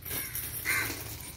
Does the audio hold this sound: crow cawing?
yes